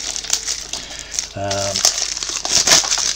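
Cellophane wrapping is pulled off a DVD special edition package, producing close, continuous crinkling and crackling, with a brief voice sounding partway through.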